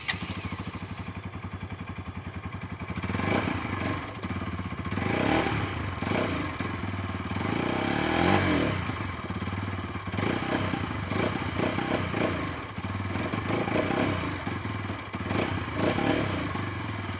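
A Bajaj Pulsar NS200 motorcycle engine with underbelly exhaust idles with a low, throbbing rumble, then revs repeatedly in rising bursts that rise and fall close by, without talking.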